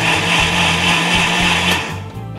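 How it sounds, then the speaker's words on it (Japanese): An electric kitchen blender whirs steadily at high speed while mixing milk, a loud, continuous motor drone with a faint wobble, heard close and alone. "今からこの牛乳だけを少しミキサーかけます。"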